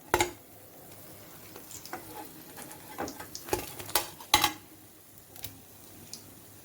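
Guntur mirchi bajji frying in hot oil, a steady close sizzle broken by scattered sharp crackles and a few stirring or utensil clicks, with no voice.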